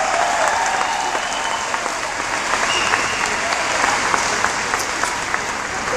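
A large outdoor political rally crowd in Sarasota, Florida, applauding a representative's introduction with dense, steady clapping and scattered cheers, loud and continuous throughout with no pause.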